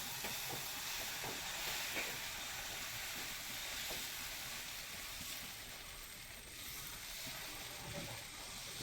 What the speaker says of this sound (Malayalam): ചൂടായ ദോശക്കല്ലിലേക്ക് നമ്മൾ മാവ് ഒഴിച്ചു കൊടുക്കും.